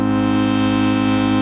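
A synthesizer bell patch sounds a sustained, thick chord with intervals on top and a sub oscillator adding a low layer underneath, held steady and loud without any voices.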